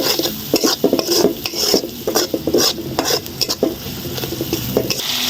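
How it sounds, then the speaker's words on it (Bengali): Turmeric and salt being stirred and fried in a pan for a fish curry: loud, rhythmic scraping of a spatula against the pan over an underlying sizzle of hot oil, with no talking. "এগুলো ভালো করে নাড়াচাড়া করে ভেজে নিচ্ছি।"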